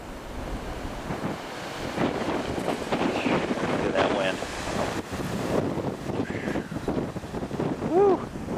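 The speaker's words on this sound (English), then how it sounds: "And the winds keep blowing." Strong wind blowing during a winter blizzard in a suburban street, a steady loud rushing roar buffeting the microphone with gusts rising and falling throughout.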